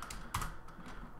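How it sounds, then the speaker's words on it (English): Keys clatter on a computer keyboard in a short burst of quick, light taps, fairly quiet and close, with no talking. "If I can type correctly"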